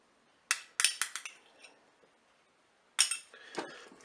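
A utensil stirs stew in a Cookeo pot with quick clusters of bright metallic clinks and scrapes against the pot, two bursts separated by a quiet pause.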